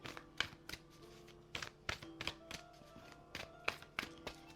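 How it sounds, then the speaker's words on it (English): A deck of tarot cards is shuffled close by in irregular bursts of crisp taps and soft thuds, with faint background tones and no talk. "shuffle these up real good"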